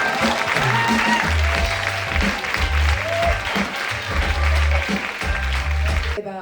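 An audience at a live comedy show applauds continuously, a dense wash of clapping layered over low rumbling music or room noise, loud and sustained for the whole stretch.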